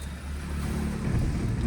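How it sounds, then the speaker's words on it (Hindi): Car engine cranked with the key and catching, then settling into a steady low idle rumble up close, during a first-day driving lesson with the clutch held down. "हाँ अब इंजन ऑन करो की से।"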